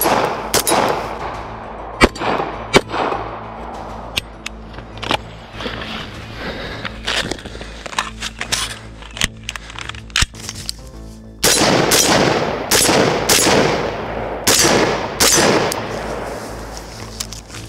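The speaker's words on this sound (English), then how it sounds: "once I make those hits, I'm going to go back to the rifle, reload, and then make two hits on each of these steel targets with a rifle" Shots from a Beretta pistol and a rifle ring out on an outdoor range, with sharp loud cracks in irregular bursts, some quick doubles, and metallic pings from steel targets, the rifle strings denser and louder near the end.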